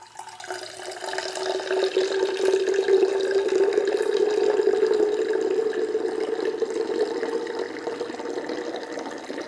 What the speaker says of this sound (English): We're going to add some warm water to it.